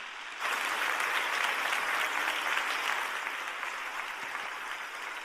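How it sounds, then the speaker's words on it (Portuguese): A church congregation at a youth service breaks into applause that starts abruptly and carries on as a thick, steady clapping from a large crowd. "Se você crê, aplaude"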